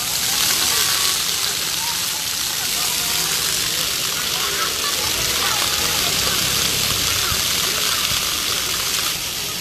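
Water jets of a public fountain behind a district office in Seoul rush in a constant broad splash and hiss, steady throughout with no clear pause.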